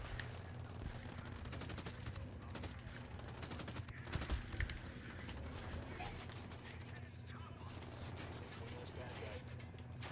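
Dense, continuous gunfire from the Ghost Recon Wildlands video game, with overlapping automatic bursts and sharper shots, including a louder cluster near the middle, rattling steadily throughout.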